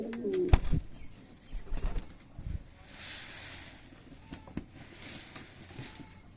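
Rajshahi Giribaz pigeons at a pigeon farm in Sona Masjid, Chapainawabganj, give soft cooing and occasional wing flutters with a few sharp knocks, at moderate distance over faint background noise.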